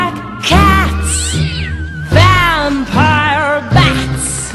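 Cats meowing in a series of long, drawn-out, wavering cries, several in succession, loud and close with brief gaps between calls.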